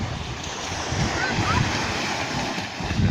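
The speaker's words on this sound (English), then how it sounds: "Kai Bae Beach. Fine sand. Tide's just going in." Waves of the incoming tide wash onto the fine sand of Kai Bae Beach on Koh Chang, a continuous rolling surf with wind buffeting the microphone.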